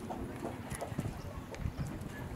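Horse hooves clip-clopping at an equestrian event, a steady run of close, loud hoof strikes over a low rumble of outdoor background noise.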